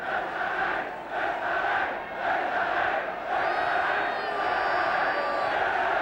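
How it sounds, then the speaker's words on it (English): Welsh football crowd at the Racecourse stadium during a 1975 Wales v Austria European Championship qualifier, a vast massed chant rising and falling in rhythmic waves, distant and roaring with a faint whistle near the end. "the Racecourse crowd letting their team know that they are here"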